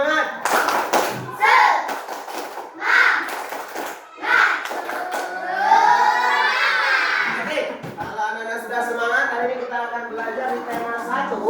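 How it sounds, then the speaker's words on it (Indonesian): Schoolchildren in a classroom perform the rhythmic tepuk semangat clapping chant, with bursts of patterned hand claps and group voices chanting along, fairly close and lively throughout. "Semuanya tepuk semangat."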